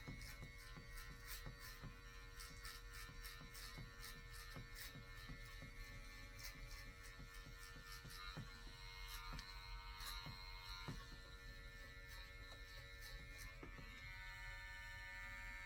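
Electric hair clippers buzz steadily through a mullet haircut, run against the grain, a constant close hum with small clicks as the blade moves through hair.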